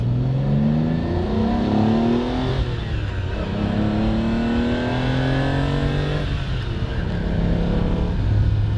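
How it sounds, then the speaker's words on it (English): A Lamborghini Countach V12 engine revs hard and close, pitch climbing through several gear shifts in smooth sweeping surges, loud with no talking. "There's nothing like a V12 sound."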